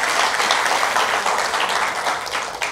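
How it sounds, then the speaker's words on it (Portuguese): A church congregation claps in praise at a worship service, a dense, sustained wash of many hands applauding at close range, steady and loud throughout. "Louva ao Senhor aí no seu lugar com as suas palmas"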